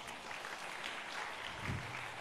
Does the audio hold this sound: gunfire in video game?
no